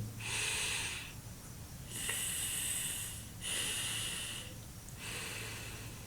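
Anulom vilom, the alternate-nostril pranayama breathing practice, comes through as slow, rhythmic nasal breaths, with four hissing inhales and exhales alternating at an even pace, close and fairly quiet, with no talking.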